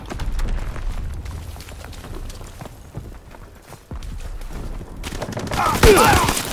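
Gunfire in a war video game, with rapid bursts of shots and battlefield rumble mixed with shouted voices, growing denser and louder toward the end.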